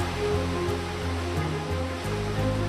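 An Amazon rainforest waterfall roars steadily, a loud, dense wash of rushing water, with a faint low tonal hum underneath.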